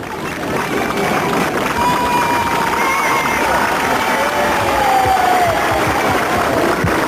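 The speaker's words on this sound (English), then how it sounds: "The crowd expressed their warm and spontaneous appreciation to this sprightly octogenarian." A large outdoor crowd at the 1985 Worstead Festival cheers and applauds the Queen Mother, a dense, steady roar of clapping and voices that swells slightly midway and carries on throughout.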